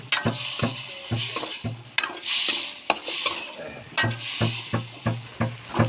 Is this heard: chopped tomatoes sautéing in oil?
yes